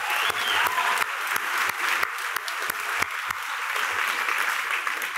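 Sustained audience applause at the 2012 USC Libraries Scripter Award ceremony, honoring the writers, steady and dense throughout with sharp individual claps standing out.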